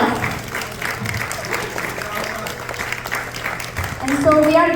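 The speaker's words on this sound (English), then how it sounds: "round of applause." Steady audience clapping honouring Ram Deshpande at a community event, a sustained crowd ovation that carries on throughout, with a voice starting to speak over it near the end.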